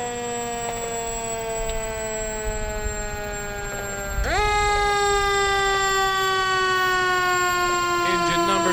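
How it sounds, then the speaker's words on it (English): A loud Ellerby Fire Department truck siren wails continuously nearby at a parade, its pitch sliding and rising midway as the sound swells. "Behind that, making a little bit of noise, is one of the trucks from the Ellerby Fire Department"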